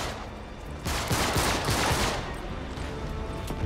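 Gunfire while shooting snipers in the action video game Uncharted 3: Drake's Deception, a rough, dense crackle of shots over a noisy battle backdrop, swelling in a burst then continuing at a moderate, somewhat distant level.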